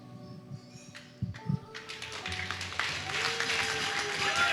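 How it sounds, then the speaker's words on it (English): Applause from wedding guests after a heartfelt speech, a burst of clapping that swells and continues, mixed with crowd noise, under a voice speaking. "Don't clap for me."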